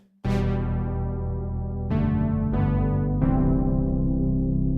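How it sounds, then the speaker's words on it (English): A sustained synthesizer pad tone with a sharp onset holds steady, shifting to new chords about every second or so, each change adding a bright attack before settling. "There's a pad sound that I used, very similar to one over here on the Hydrasynth."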